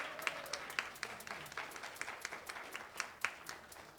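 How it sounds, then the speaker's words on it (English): A church congregation claps in a round of applause after a service, a light, fairly quiet patter with distinct individual claps standing out, no talking over it. "How about a round of applause for Dolly and Suzanne?"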